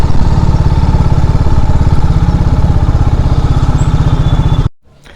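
A red motorcycle's engine runs loud and close on a ride up Nandi Hills, its fast steady thumping firing pulses lasting several seconds before cutting off abruptly into near silence.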